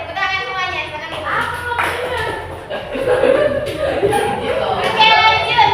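Students in a primary-school classroom clap together in a dense, steady round of applause, with children's voices chattering and calling out over the clapping throughout.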